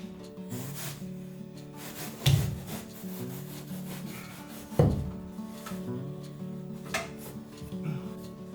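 Exposed glass wool insulation is handled and pressed into place during new house construction, giving soft intermittent rubbing and rustling with two sharper thumps, no talk.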